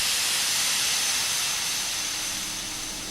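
Loud, steady steam hiss from a double-heading pair of LMS Black 5 and Jubilee steam locomotives at Bury on the East Lancashire Railway, a continuous broadband rush that fades slightly toward the end.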